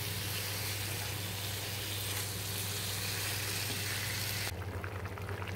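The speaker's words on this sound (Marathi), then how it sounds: "झाकण ठेवून उकळी काढणार आहे त्याला एक" Soya chunk curry simmering and bubbling under a lid in a pan, a steady soft sizzling hiss with a low hum that drops away abruptly near the end.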